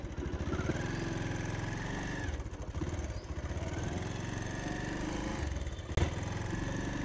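A used motorcycle engine running on the road during a test ride, a steady mid-pitched putter that dips briefly before picking back up, with a sharp knock near the end.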